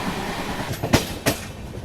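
Azad Hind Express pulling into Gondia railway station, a few distinct rattling clacks of the carriages over a steady low rumble, with no voices.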